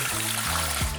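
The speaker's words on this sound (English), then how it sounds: "say I switch on my water here, might come out brown" Tap water gushing into a sink in a cheap outback home, a steady broadband rush with low background tones, close and continuous throughout.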